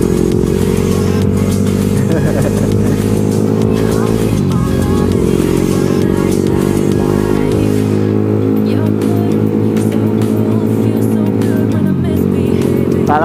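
Motorcycle engine on a night ride through city streets, a steady loud drone with shifting revs that drops lower about midway, with a voice talking over it.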